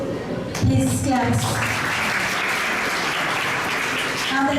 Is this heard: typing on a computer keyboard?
no